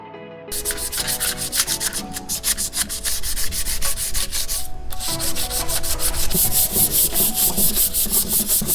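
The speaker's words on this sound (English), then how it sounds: "now that we got it pretty smooth using the 80 grit, we're going to go through with the 120, smooth it out a little more, hit it with some 320" A car valve cover being hand-sanded with sandpaper, fine grits after 80, giving quick rhythmic rasping strokes, close and steady, with no voices.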